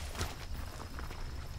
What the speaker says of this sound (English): I can hear their footsteps.